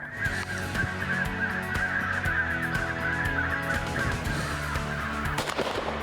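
Crows caw repeatedly, a run of harsh calls, some overlapping, near and fairly loud, over a busy outdoor background with no talking.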